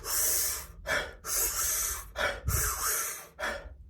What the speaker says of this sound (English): it's 2 inhales, 1 big exhale, but really quick